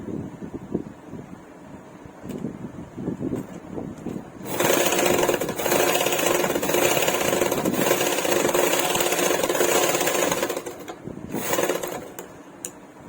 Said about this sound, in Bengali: এবার ঠিক 2 সুতো ছেড়ে আর একটা সেলাই দিয়ে দেবো।